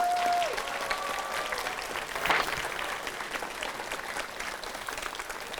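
An audience at an art and design summer show applauds its technical team, sustained crowd clapping at moderate level with a brief vocal swell partway through, continuing steadily to the end.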